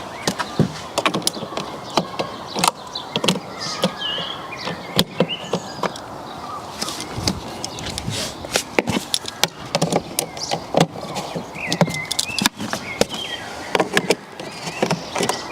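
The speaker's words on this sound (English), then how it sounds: "we just need to take our 13mm socket and just 1/4 turn all of these plastic nuts" A 13mm socket turning plastic nuts on a BMW scuttle panel, close clicks, scrapes and short plastic creaks in an irregular series over soft background noise, with no speech.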